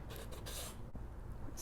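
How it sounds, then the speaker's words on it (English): A steady rasping rub of a nail file smoothing a paper edge on a chipboard book, worked back and forth, with a brief pause partway through. "you can go in with your nail file or your sanding paper, and you can just smooth down"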